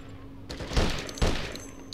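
Two sharp gunfire bursts about half a second apart ring out in the Conflict: Desert Storm video game, fairly close and loud, with lighter clicks and a low background rumble around them.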